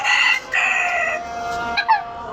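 A sick chicken, wings drooping and beak slightly open, makes a few close, strained calls in quick succession that end in a short rising cry.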